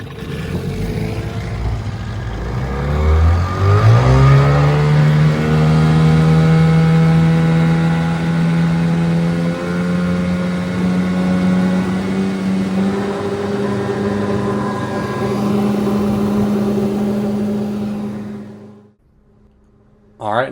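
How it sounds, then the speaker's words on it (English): A small 10-horsepower outboard motor on a 12-foot fishing boat drones steadily, its pitch climbing as it revs up and then holding a strong, even hum before dropping away at the end. "this 10 horsepower motor still gets it up over 20 miles an hour"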